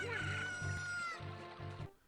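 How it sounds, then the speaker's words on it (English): Chicken clucking and crowing in Ocarina of Time after an egg hatches, a loud game-audio fowl call with rhythmic low pulses underneath, ending abruptly. "The egg hatches into a chicken"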